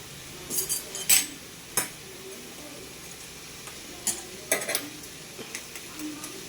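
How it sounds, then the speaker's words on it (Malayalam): An egg sizzles softly in a pan at home while a utensil scrapes and taps against the pan in a few sharp clicks, with a quiet background hiss. "ആ സൈഡിലോട്ട് പൊട്ടിച്ചൊഴിക്കും മുട്ട"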